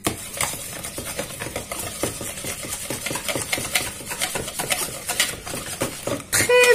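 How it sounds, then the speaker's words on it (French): Yogurt batter with oregano being mixed in a bowl for oil-free, flour-free savory cupcakes, heard as fast continuous clinking and scraping of a utensil against the bowl, close and busy. "Je vais mettre aussi l'origan maintenant. Et je vais mélanger tout ça."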